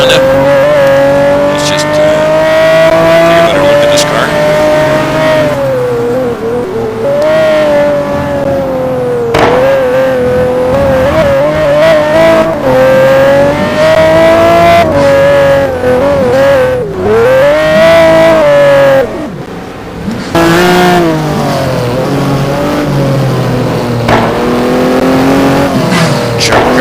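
Pagani Sonda race car in a racing video game during GT1 qualifying at Anderstorp, its engine droning loud and continuous, pitch rising and falling through gear changes and corners, with a brief dip near the end.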